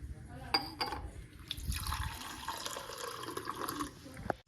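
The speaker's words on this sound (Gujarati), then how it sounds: "જતાં પહેલાં માટલાનું ઠંડુ પાણી પી લઈએ" Cold water poured from a clay pot on a horse farm, a steady liquid filling sound running for several seconds with a few brief clinks at the start and end, close and moderately loud.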